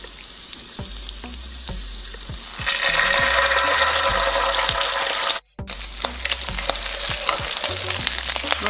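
Garlic and chili paste frying in a hot pan over medium heat for nasi goreng, a steady loud sizzle that swells partway through, with scraping stirs and a brief dropout before the frying resumes.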